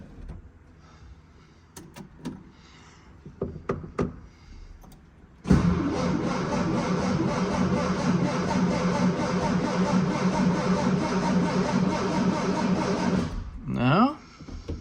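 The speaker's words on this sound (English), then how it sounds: "So we'll just see if she fires up first." An old car engine cranks without the gas pumped, a steady loud churning whir that runs unbroken for about eight seconds after some clicks and handling noises, then cuts off abruptly without the engine catching.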